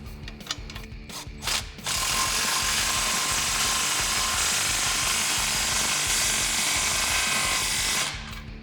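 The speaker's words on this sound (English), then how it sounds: "Now I'm going to tighten my clamp once I got the muffler" A hand ratchet tightens an exhaust clamp on the muffler of a 2021-2022 Bronco cat-back exhaust, starting with a few quick separate clicks, then a steady rapid run of clicking for about six seconds, close and loud.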